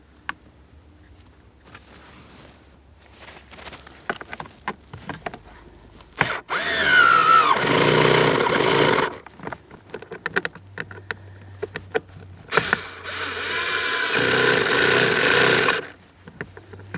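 A power driver whirs in two sustained bursts, tightening T20 Torx screws on the front HVAC blower motor resistor of a 2008–2016 Chrysler Town & Country, with scattered clicks and handling noises between runs.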